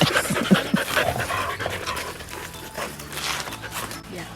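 A dog at a pariah dog shelter pants eagerly and close up, quick rhythmic breaths with a few soft whimpers, while people talk nearby.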